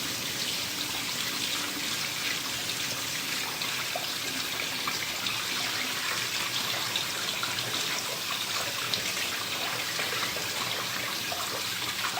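Tap water runs in a continuous, even stream over cauliflower being washed, splashing steadily with no talking.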